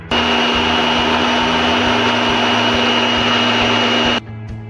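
An electric mixer grinder whirs at a constant high pitch as it blends sesame chutney with a little water, running loud and close for about four seconds before switching off.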